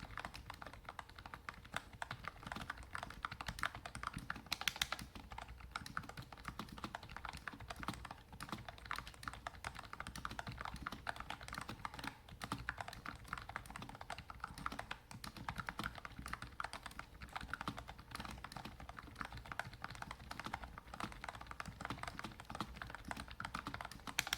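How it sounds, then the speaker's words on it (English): Rapid, steady clatter of a Redragon S107 keyboard's keys typed continuously at close range, with no voices. "let's just do a 30-second test and see what my CPS is"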